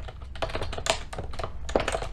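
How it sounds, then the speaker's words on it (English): Rapid clattering keystrokes on a computer keyboard, close and steady with uneven bursts of taps and a few louder key hits, no voices. "So let's start typing."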